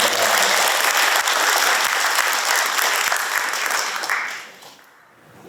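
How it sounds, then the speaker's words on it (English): Loud, dense applause from a lecture audience welcoming the speaker of a scientific talk on quantum entanglement, sustained for about four seconds before tapering off into quiet. "Let's give another round of applause to welcome."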